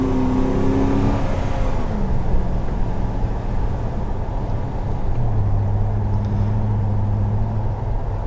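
A 2019 Chevrolet Silverado 4500 LCF truck drives with a steady, close engine drone that rises and shifts pitch as it gears up, then settles into a humming cruise, no voices present.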